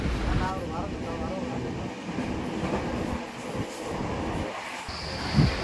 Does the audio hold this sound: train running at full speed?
yes